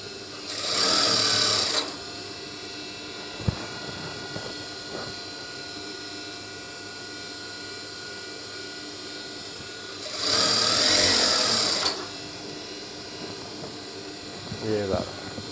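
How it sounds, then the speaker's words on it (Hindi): An electric sewing machine stitches trouser fabric along a buckram-lined fold in two loud, steady bursts of about two seconds each, with a long quieter stretch between them where a voice talks. "जिधर से बुकरम लगाया है उसी जगह से इसको आपने सिलाई लगानी शुरू कर देनी"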